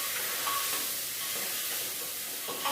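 Masala and bottle gourd vegetables fry in a pressure cooker with a soft, continuous sizzle and occasional stirring scrapes, fairly quiet and without voices.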